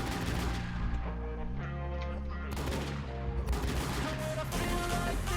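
Rapid gunfire in the game ZEROz, continuous loud shooting layered over constant game music and effects throughout.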